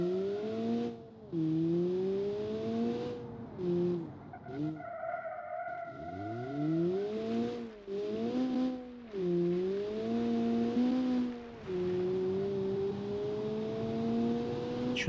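A video game car with a 200 horsepower 1.6 liter engine revs up and down repeatedly, its engine note rising and falling in sweeps with brief tire squeals between, loud and close throughout.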